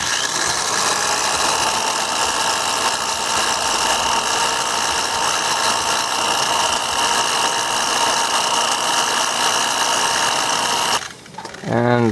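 Knife screws and hardware from an XM-18 are rubbed on a Scotch-Brite pad, a continuous buzzing, scratchy rasp that holds steady before abruptly stopping near the end.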